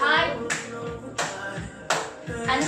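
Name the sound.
clapping hands high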